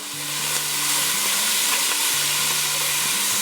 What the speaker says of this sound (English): So I want to get the onions caramelized a little bit.